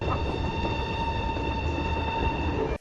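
A train in a scene from Interview with the Vampire gives a steady, loud rumble with a sustained metallic wheel whine that holds throughout, then cuts off abruptly.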